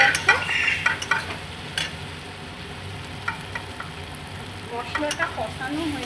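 Chili and spice paste fried in oil in a karahi hisses steadily while a spoon scrapes and stirs it in uneven strokes, louder at the start and end.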